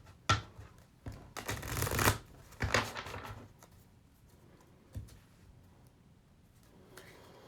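Tarot cards being shuffled by hand in a quiet room, with a few soft riffles and bursts of card flutter between taps and handling noises.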